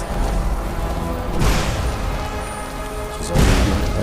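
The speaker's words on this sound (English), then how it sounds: "He's just throwing firebolts into it." Firebolt spells strike a fire-resistant dragon in Skyrim, two heavy booming impacts about two seconds apart over a constant roaring battle din, with no talking.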